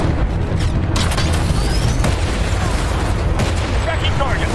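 Mech weapons firing in Titanfall 2 amid dense combat, heavy booming shots and bursts over a constant rumble of battle noise.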